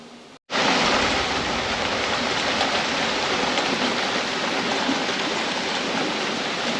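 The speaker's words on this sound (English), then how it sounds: "We're definitely getting a good rain right now." After a brief pause, heavy rain pours down in a steady, dense hiss that continues unbroken and fairly loud, like a downpour close by.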